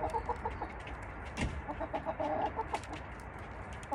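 Hens cluck in a backyard coop in a front garden, several birds making short, broken calls close by with rustling between them and no one speaking.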